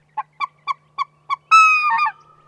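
A juvenile white-fronted goose gives five short, evenly spaced yelping calls, then a longer, higher drawn-out call, close and clear against a quiet background.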